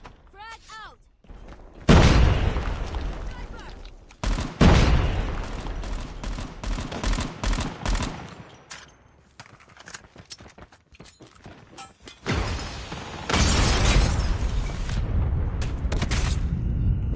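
Gunfire and explosions from a multiplayer video game battle, a dense burst of rapid shots and booms punctuated by quieter gaps, with a player's voice talking over parts of the action.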